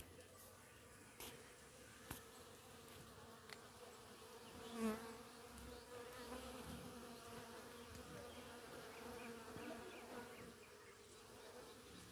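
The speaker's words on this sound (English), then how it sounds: "As you can hear, the bees are working." Steady, low buzzing of bees on an organic farm in Jamaica fills the scene, a continuous droning hum with a few louder passes close by, heard outdoors without speech.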